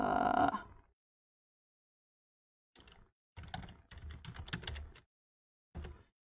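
Computer keyboard being typed on in short bursts of quick clicking keystrokes, close and fairly quiet, separated by silent pauses, with no talk.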